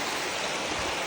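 Madulas Falls, a waterfall in Baybay, Leyte, pours as a steady broadband rush of falling water that fills the short moment evenly, close and moderately loud, with no voices.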